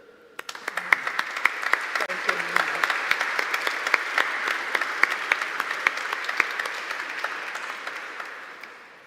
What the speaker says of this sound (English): please join me in a round of applause to all the panelists